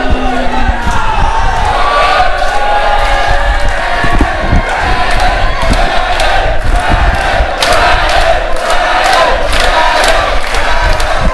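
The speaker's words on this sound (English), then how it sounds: "The crowd clearly unhappy with the outcome, chanting." Wrestling crowd at an SPW handicap elimination match, loud and continuous, with rhythmic chanting and sharp accents of noise from an arena audience unhappy with the outcome.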